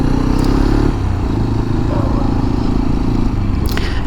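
A Hero Xpulse 210 motorcycle engine runs steadily while riding, a loud low rumbling drone with a brief scrape near the end.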